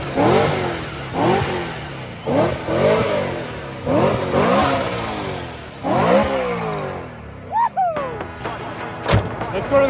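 A race car's engine, freshly repaired, revs repeatedly in sharp rising bursts, about five loud close pulls that fall away between them, followed by a few quieter throttle blips and a thunk.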